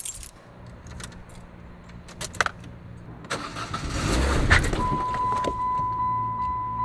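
Car keys jangle and click in the ignition, then an engine cranks and catches, settling into a steady idle with a tonal hum. The start is close and fairly loud, with scattered handling noises before it.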